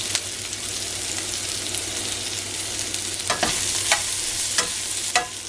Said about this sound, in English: you want to be gentle when you stir it at this point because you might break up the potatoes